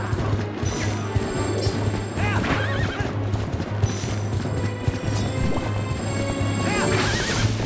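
Horses in the Zelda Twilight Princess game neigh and whinny several times over rapid galloping hoofbeats and a steady low tone, with clanging battle sounds mixed in.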